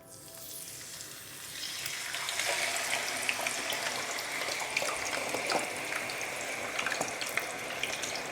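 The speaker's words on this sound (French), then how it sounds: "Donc là, on va mettre les frites dans l'huile bouillante" French fries lowered into boiling oil, building into a loud, continuous bubbling sizzle that swells after the first seconds and holds steady, close by, with no talking.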